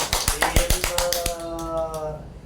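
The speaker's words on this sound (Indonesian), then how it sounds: "Tepuk tangan untuk kita semuanya." Students clapping their hands together in a primary school classroom during a lesson, a burst of sharp rhythmic claps for about a second before fading into room tone and faint voices.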